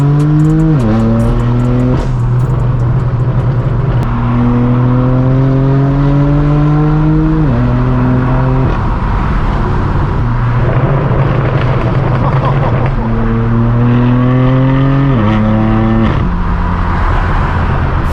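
A straight-piped BMW M4 F82 on the road, its loud raspy exhaust climbing through repeated gear pulls with sharp drops at each shift, droning steadily up close for the whole stretch.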